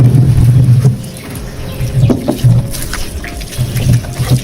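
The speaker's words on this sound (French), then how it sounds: "Là, ici, nous lavons du plantain à de l'eau coulante de fois." Running water streams and trickles steadily as plantain is washed beneath it, a close, continuous splashing flow with low rumbling surges and faint bird-like chirps in the background.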